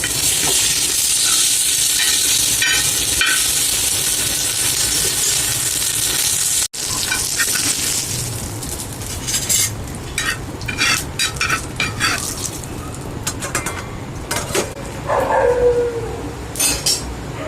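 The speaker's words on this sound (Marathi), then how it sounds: "मी जी सकाळी खिचडी बनवली होती ती हा तेलामध्ये फ्राय करते" Leftover khichdi frying in oil in a home kitchen, a steady loud sizzle that cuts off abruptly, then spatula stirring and scraping with the frying continuing, a dog barking briefly in the background.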